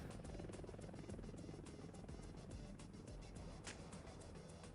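A helicopter in the Delta Force Black Hawk Down video game drones with a steady, dense rotor hum and faint rhythmic chopping, continuous and moderately distant.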